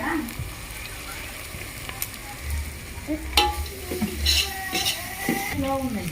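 Turmeric stirred into a pan of frying mutton gravy in a home kitchen: steady soft sizzling with scattered clinks and scrapes of a spoon against the pan, while someone talks over it.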